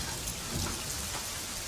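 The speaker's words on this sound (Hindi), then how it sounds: "बारिश हो रही है ना।" Steady rain pours down, a dense, loud hiss of drops on surfaces with no break, alone without voices.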